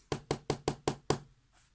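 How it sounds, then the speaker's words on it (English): Six sharp knocks tap at a door in a quick, fairly even rhythm, close and clear, followed by silence on a snowy night. "Suddenly Percy heard a tapping sound. There was somebody at the door."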